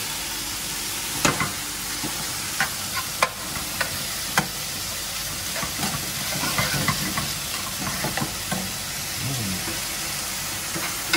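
Garlic butter sizzles in a frying pan with a steady bright hiss, punctuated by occasional sharper crackles and spatters, close and continuous.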